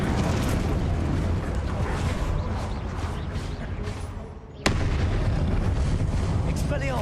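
The Incendio fire spell cast in Hogwarts Legacy: a loud, dense, roaring fiery rush fills the whole span, dips briefly, then bursts back with a sharp crack, mixed with game combat noise.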